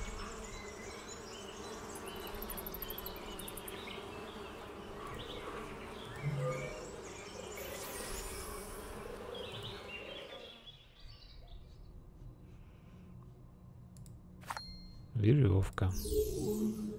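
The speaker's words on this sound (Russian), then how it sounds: "Покусает пчелы." Bees in the video game Namariel Legends buzz in a continuous drone with faint chirping, fading out partway through, while a person talks.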